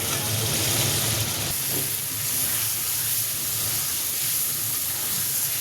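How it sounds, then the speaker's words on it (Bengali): Eggs and potatoes frying in a pan: a steady, moderately loud hiss and crackle of sizzling oil throughout, with no talking. "ডিম দিয়ে আলু দিয়ে কষিয়ে নিচ্ছি"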